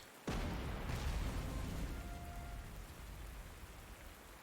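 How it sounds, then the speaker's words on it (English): Rain in a video game suddenly starts and becomes a steady, dense hiss of heavy rainfall that continues evenly. "For obvious reasons, it's raining."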